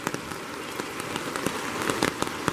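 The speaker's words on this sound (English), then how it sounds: "the drops coming down on my tarp are pretty impressive because I'm under this big old maple tree here" Rain drops falling onto a tarp beneath a big maple tree by the Cispus River in October make a dense, steady patter, with sharper, louder drops landing every so often, close and without voices.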